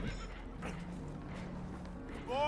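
Spooked horses in Red Dead Redemption 2 let out whinnies, a brief neigh near the start and a louder rising one at the end, over a constant rumbling background.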